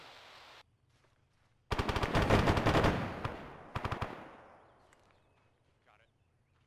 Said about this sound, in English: we're hearing a heavy machine gun fire on the opposite side of this building from us